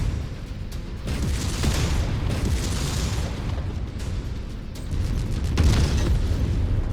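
Tank destroyed in the MechWarrior 5 video game, a sustained rumbling explosion with layered booms and crackling debris, swelling again near the end and loud throughout.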